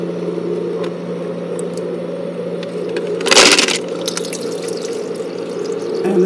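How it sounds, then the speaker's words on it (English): Inside a running portable ice maker, the tray tips and dumps freshly made ice cubes into the ice basket, a brief loud clattering rush lasting about half a second over a steady mechanical hum, with no talking. "this little tray there is going to dump the ice cubes it just made into this ice basket"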